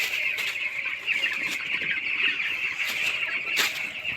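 Young broiler chickens on a poultry farm cluck and peep in bursts around a water drinker, a busy flock chorus over a steady background hum, no talk.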